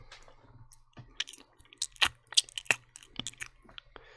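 Someone chews crunchy food close to the microphone, producing a quiet, irregular run of crisp crunches and clicky bites with short pauses between them.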